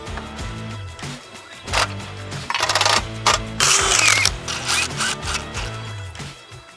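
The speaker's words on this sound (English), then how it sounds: "we're just tightening these screws around this harness right here that holds the photo eye in place" Close mechanical clicks and ratcheting from screws being tightened on the harness holding a gate opener's photo eye, sounding in short repeated bursts with louder rattling handling noise midway.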